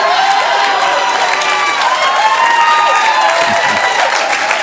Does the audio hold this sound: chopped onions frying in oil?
no